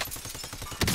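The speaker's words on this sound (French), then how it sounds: "Ça tire sur moi." Rapid burst of automatic gunfire in the shooter game Call of Duty Warzone, dense repeated shots in a quick rhythm, close and loud, with a heavier blast at the end.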